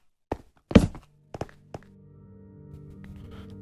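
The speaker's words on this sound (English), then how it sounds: "you can hear an extra set of footsteps on the stone." Footsteps land on stone inside a cave in a video game as a few sharp, hollow thunks spaced irregularly, one heavier than the rest, followed by a faint lingering tone and no speech.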